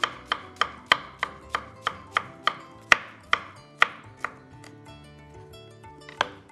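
A knife chops an onion on a cutting board in quick, regular strokes, about a dozen close taps, then slows and pauses before one last cut.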